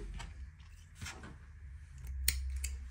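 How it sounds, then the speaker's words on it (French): Scissors snip through crochet yarn close by, two or three quiet crisp cuts over a soft low background hum, with no talking. "Et je coupe mon fil"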